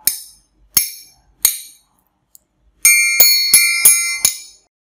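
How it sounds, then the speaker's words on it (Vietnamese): Triangle held fixed in the hand and struck on its sides with a beater, first three short damped taps and then a faster run of five bright ringing strikes, clear and close with no voices. "người chơi sẽ cầm cố định tam giác chuông, dùng que gõ vào các cạnh sẽ tạo nên những âm thanh dứt khoát"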